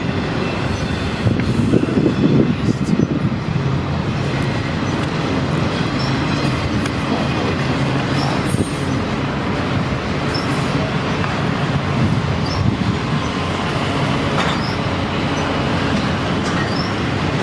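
A CPKC freight train rolls past on a windy day with a continuous loud rumble of railcars and scattered wheel clicks and squeals, close to the track.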